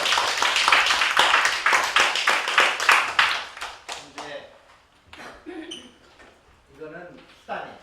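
An audience at a Korean lecture breaks into a burst of rhythmic group clapping, loud and rapid for about four seconds, then trails off into scattered claps and murmuring voices.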